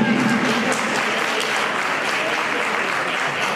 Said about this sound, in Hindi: तालियां जोरदार इनके लिए